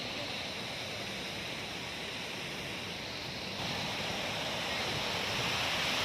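Meo Falls waterfall pours in a steady, dense roar, constant and moderately distant, growing slightly louder toward the end with no voices over it.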